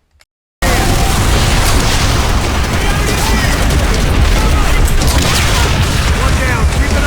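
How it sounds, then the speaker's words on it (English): Dense, continuous battle roar from Call of Duty: World at War as a bazooka blows up Japanese tanks, with heavy booms and explosions filling the whole stretch at loud, steady intensity after a brief near-silent opening. "we finally get our hands on the famous bazooka, and then go to work blowing up Japanese tanks"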